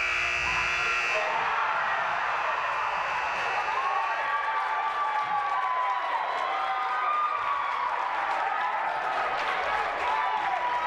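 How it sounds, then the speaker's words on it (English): Buzzer sounding at the end of a girls high school basketball game in a gym, a sustained tone ringing through loud crowd cheering and applause that continue after it. "the buzzer beater is made by Whitney Dixon, and we are going into overtime"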